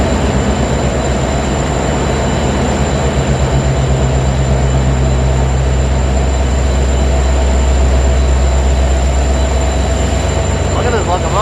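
A train locomotive idles at a station after an overnight ride to Chicago, giving a steady, loud mechanical drone with a low hum and a faint high whine throughout, and a brief squeal near the end.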